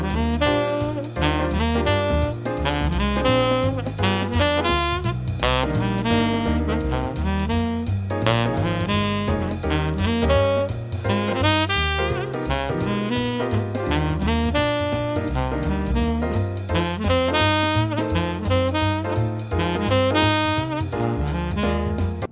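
Jazz arpeggio exercise running 1-3-5-7 chord tones through each chord change of a standard, a continuous stream of quick melodic notes over dense accompaniment, steady and loud throughout with no talking.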